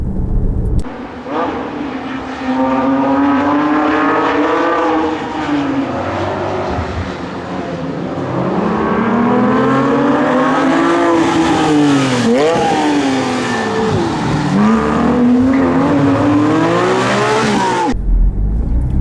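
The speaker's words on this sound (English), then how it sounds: "The amount of people that comment on how awesome this car sounds" A loud, continuous Porsche 997.2 GT3 RS engine drone that rises and falls in pitch as the car revs and shifts, heard steadily for nearly twenty seconds with no talking.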